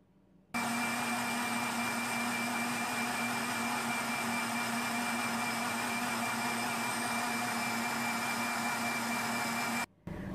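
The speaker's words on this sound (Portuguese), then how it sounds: "Eu não desligo o liquidificador." An electric blender runs steadily, whipping cake batter of eggs and sugar for a wheat-free, dairy-free cake, a loud continuous whirring motor hum with a constant pitch that cuts off sharply near the end.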